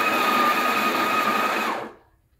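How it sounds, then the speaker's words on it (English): Built-in burr grinder of a Breville Barista Express BES870 espresso machine running for under two seconds, a close, buzzing whir with a steady high whine, then cutting off abruptly into silence. "And to change that, you want to turn on the grinder"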